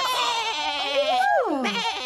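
A single sheep bleats, a wavering nasal cry that slides downward in pitch, heard close and clear.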